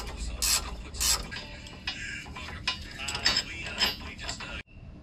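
A coil spring compressor is worked free from a Jeep's front suspension during a MetalCloak 3.5-inch lift install done on the ground. Close, uneven metallic clanks, ratcheting clicks and scraping come in irregular bursts, then cut off sharply near the end.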